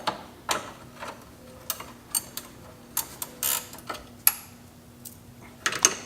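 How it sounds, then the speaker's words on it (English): A 21 mm ratcheting wrench runs a nut up onto the end of a truck's tie rod during a leveling kit install, giving scattered, irregular clicks and short mechanical bursts close by, with quiet gaps between. "I'm going to run the nut up on the end of the tie rod here using a 21 millimeter ratcheting wrench."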